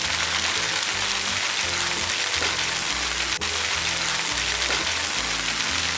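Red and yellow bell peppers stir-frying in a pan for rice stick noodles, giving a steady, loud, close sizzle with a rapid crackle throughout and a brief clink partway through.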